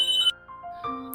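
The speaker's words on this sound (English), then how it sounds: "Excuse me, my phone is ringing." A mobile phone plays a ringtone as a loud, close, bright electronic melody of a few stepped tones, with no voices.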